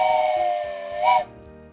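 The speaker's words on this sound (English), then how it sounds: "Here's Thomas's train whistle." A Thomas the Tank Engine steam train whistle from the OpenTTD video game sounds as one sustained, reedy tone that swells briefly near its end before cutting off, heard alone.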